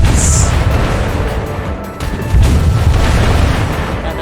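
Ship guns firing in the Azur Lane naval game, a dense continuous roar of booming cannon blasts and explosions, loud and sustained throughout.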